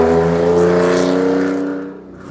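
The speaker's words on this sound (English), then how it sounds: "Possibly the noisiest car in the world just driven past" An extremely loud car roars past close by, a heavy droning engine note with strong harmonics that holds steady and then drops away as it recedes, leaving quieter background noise.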